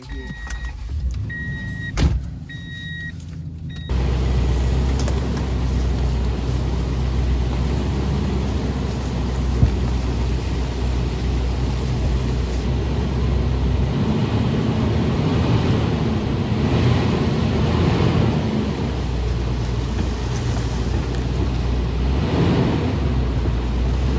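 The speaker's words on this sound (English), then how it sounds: "55 minutes of driving on this dirt road." A truck drives along a dirt trail in the mountains of western North Carolina, heard from inside the cab. A steady low engine drone and road rumble set in after a brief quieter start and carry on evenly throughout.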